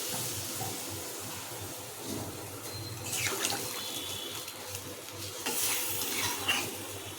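Water pours into a pan of katla fish curry with potatoes and cauliflower, a steady close splashing rush that swells midway and continues over faint background noise, with no voices.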